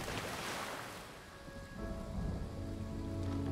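Wind and rain in the video game Ori and the Will of the Wisps: a dense, steady rush of rainfall with a low windy roar that swells slightly in the second half, with no voices.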